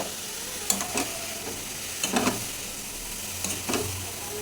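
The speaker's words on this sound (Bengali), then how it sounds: "তো এই যে লাউটা দিয়ে দিচ্ছি" Bottle gourd pieces tipped into hot spiced oil sizzle steadily while a spatula scrapes and stirs in a few distinct bursts, close and moderately loud with no talking.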